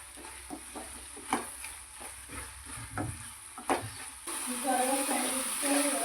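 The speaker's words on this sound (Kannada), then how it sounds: "ನೋಡಿ ಫ್ರೈ ಆಗ್ತಾ ಇದೆ" Turkey berries (sundekayi) frying in a pan for gojju, a soft steady sizzle with a few stirring knocks early on. The sizzle swells louder and hissier in the last couple of seconds.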